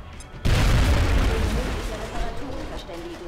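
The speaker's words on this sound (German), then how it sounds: "Eine Granate" A grenade blast in the strategy game XCOM: Enemy Within bursts in with a sudden loud, deep boom, then a long rumbling decay as faint tonal game effects sound over it; no talk is heard during the blast.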